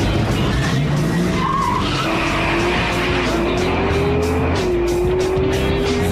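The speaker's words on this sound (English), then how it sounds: "owners come to push their highly modified street cars to the limit over a quarter mile" Highly modified street cars launch hard at an amateur quarter-mile drag strip, tires squealing and skidding over a loud, continuous engine roar that stays close and dense throughout.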